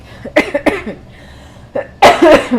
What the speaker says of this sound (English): This cough is taking forever to go.